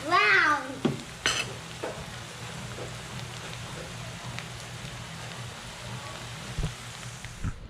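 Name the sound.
garlic frying in butter until brown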